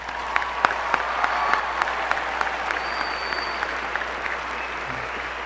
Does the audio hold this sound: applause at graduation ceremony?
yes